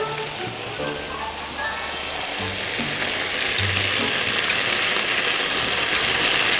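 Onions go into a sizzling pork stir-fry, producing a dense, continuous crackling hiss that grows louder over the few seconds, with a faint voice and brief tones early on.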